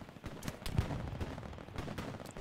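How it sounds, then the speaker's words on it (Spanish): Gunfire crackles in the World War II shooter Hell Let Loose, a scatter of distant and mid-range shots and short bursts over a constant battlefield rumble. "Cuidado, nos disparan."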